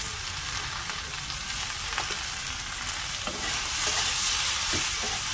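Okra frying in a pan with salt and turmeric, a steady close sizzle broken by light spatula scrapes and taps as it is stirred, with no talking.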